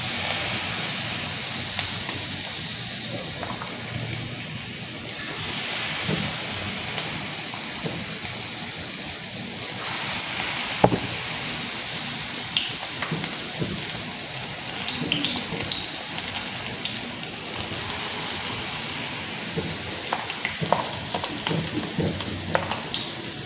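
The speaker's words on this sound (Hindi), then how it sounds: "चलो इनको फ्राई करते हैं" Vegetable and chilli pakoras deep frying in oil, a steady rain-like bubbling crackle with occasional louder pops, continuous and moderately close.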